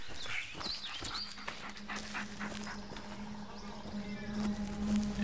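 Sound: dog panting and whimpering

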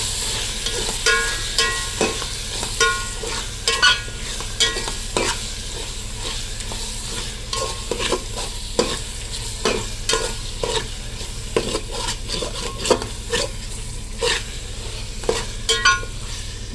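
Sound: sautéing tomatoes in pan for Ambur chicken biryani

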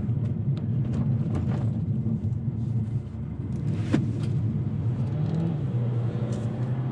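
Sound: 2021 Kia Seltos driving through a corner in sport mode

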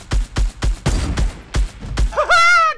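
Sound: gunshots shooting at a wooden structure in video game Fortnite

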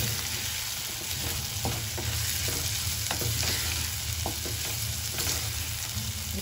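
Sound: stirring rice into spiced vegetable mixture in a new clay pot

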